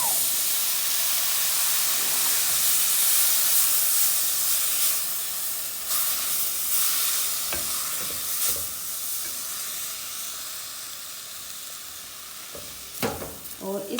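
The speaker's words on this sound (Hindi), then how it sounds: "अभी इसमें मैं डालूँगी दूध।" Milk poured into a pan of roasted coconut for coconut laddu hisses and sizzles loudly at first, then settles into a softer bubbling simmer with a few stirring clinks toward the end.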